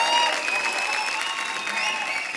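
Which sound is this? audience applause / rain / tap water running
audience applause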